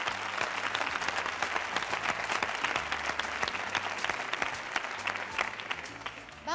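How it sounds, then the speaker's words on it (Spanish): Studio audience applause on a Spanish television game show with a Feria de Abril theme, sustained and dense, with a low steady hum under the clapping throughout. "Un aplauso."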